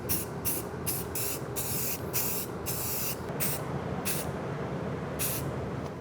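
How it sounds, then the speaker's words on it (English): Primer sprays from an off-the-shelf rattle can onto foam costume armor in a series of loud hissing bursts, some short and some held longer, with brief gaps between them. "This is just off-the-shelf rattle can. You give everything one good coat."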